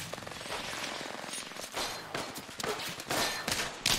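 Rapid bursts of gunfire in a shooter video game, sharp cracks and machine-gun strings overlapping with thuds, loud and dense throughout the few seconds.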